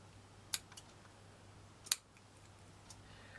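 Scissors snip through a doily, two sharp, quiet cuts about a second and a half apart, with a low hum behind them and a faint click near the end.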